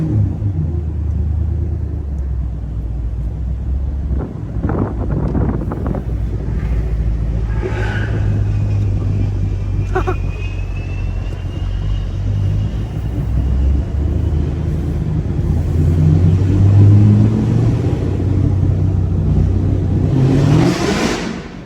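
The V8 of a manual Chevrolet Camaro SS 1LE cruising through a city at midday, a steady loud low rumble from inside the car that swells as it accelerates, with a brief faint whine partway through.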